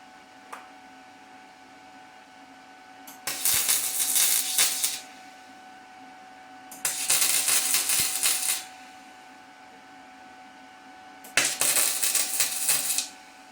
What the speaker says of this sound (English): I'm just gonna tack weld it.